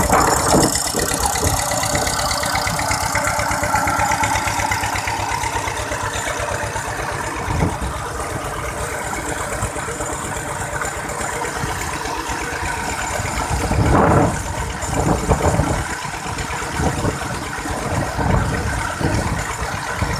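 A water pump driven by an engine runs steadily for the whole stretch, pushing water into a rice field. Its drone is loud and close, with faint mechanical rattles and a few brief bursts of louder noise.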